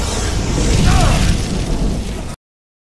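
A character blows himself up in a film, taking out attacking mutants at the edge of a pit: a loud, sustained explosive roar with crackling bursts and debris that holds steady for about two seconds and then cuts off abruptly.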